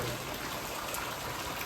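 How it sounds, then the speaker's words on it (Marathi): Steady rain falls outdoors as a constant, even hiss of drops, fairly quiet and unbroken throughout, with no voices over it. "पाऊस नाही थांबत, अजिबात थांबत नाही पाऊस."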